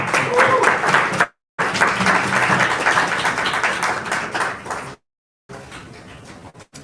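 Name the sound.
audience applause at a book launch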